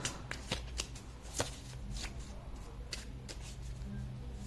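Close, steady riffle-shuffling of tarot cards, with repeated crisp flutters and snaps in a quick uneven rhythm over faint background hum.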